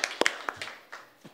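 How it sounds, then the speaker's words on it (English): A few members of a city commission clap briefly during a meeting: a handful of sparse, quiet hand claps in a small room. "Should we clap?"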